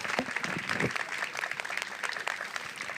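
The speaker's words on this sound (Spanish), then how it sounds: "Aplauso, por favor, para Luis." Audience applause for Luis, introduced on stage at a Spanish-language talk show, fills the room with steady, dense clapping, moderately loud and close, with a few louder claps standing out near the start.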